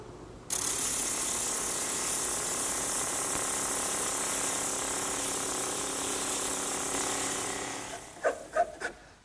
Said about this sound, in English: My drum sander attachment is the perfect tool to smooth out any of the roughness left by the